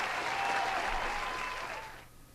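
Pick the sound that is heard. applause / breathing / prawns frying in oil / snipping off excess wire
applause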